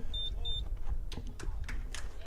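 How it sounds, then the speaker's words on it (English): Two short, high electronic beeps from a scoreboard at a college baseball game sound in quick succession as runs are added, followed by murmuring crowd noise. "that beeping you hear, yes, is 2 more runs being added to the score"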